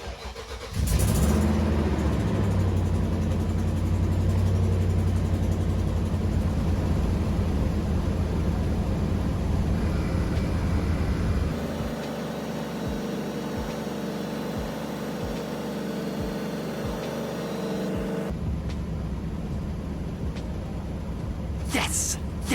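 Air ride suspension compressor on a 2008 Nissan Armada runs with a loud, steady mechanical drone close by; about halfway through the tone shifts lower and quieter, with soft rhythmic thumps, then returns near the end.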